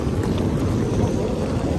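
Wind buffeting a microphone on an open cruise ship deck near Kristiansand, Norway, a loud continuous low rumbling roar that lasts the whole moment with no other sounds standing out.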